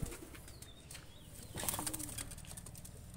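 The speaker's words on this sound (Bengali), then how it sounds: "তো দুইটা কবুতর আমি ছেড়ে দেখাচ্ছি" Two Pakistani high-flyer pigeons are let go, and a sudden burst of wing flapping breaks out midway, close and fairly loud, after a few faint earlier chirps.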